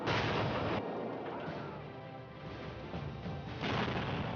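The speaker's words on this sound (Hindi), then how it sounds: "लगातार 6 घंटों से गोलियां, बम, मिसाइलों के वार झेल रहा था" Dense, continuous battle noise of rapid gunfire and heavy blasts rumbles without pause, loud and harsh throughout, no voices.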